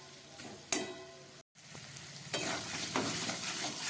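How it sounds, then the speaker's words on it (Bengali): Water splashed into a pan of frying poppy seed paste and grated coconut, with loud sizzling and stirring scrapes, a brief cut in the middle, then continued bubbling hiss. "নারকেল আর পোস্ত দিয়ে খানিকটা ভাজা হয়ে গেছে এবার সামান্য একটু জল আমি দিয়ে দিচ্ছি"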